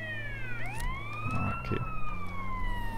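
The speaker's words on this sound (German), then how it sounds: "Machen wir die Sirene erstmal aus." A wailing police siren from the video game GTA San Andreas sweeps up and down steadily over a low engine hum, with a voice briefly speaking over it.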